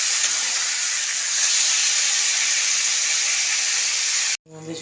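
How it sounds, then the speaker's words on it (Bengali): A pot of curry made with small catla fish and potatoes boils hard, giving a loud, steady, broadband hiss that cuts off abruptly near the end, followed by a brief sound. "আমাদের ঝুলটা ফুটে গেছে"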